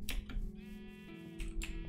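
Sheep bleat in Minecraft, a few wavering, nasal calls in quick succession, close and clear with no voices over them.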